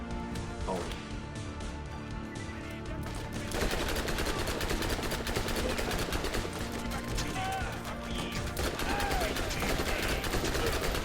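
Shotgun blasts and heavy gunfire from the Borderlands video game, with dense repeated shots and clatter that keep going from start to finish and grow fuller after the first few seconds. Talk can be heard underneath.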